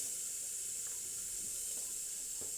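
Vegetables go into a hot pan with partly cooked chicken for a child's chicken stew, giving a steady, soft, continuous sizzle and hiss with faint stirring clicks, no voices.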